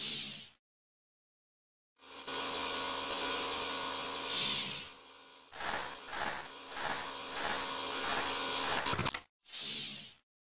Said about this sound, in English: a vacuum pump removes the air from the treating cylinder